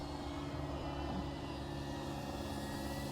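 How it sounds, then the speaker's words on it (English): A helicopter flying nearby, heard as a steady, fairly faint engine drone that holds throughout with no talk. "Oh, here a chopper or something flying around."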